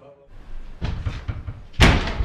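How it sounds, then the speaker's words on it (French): A heavy door is opened with a series of dull clunks and thuds, ending in one loud, close banging impact; a brief voice is audible at the start. "Elle est compliquée la porte."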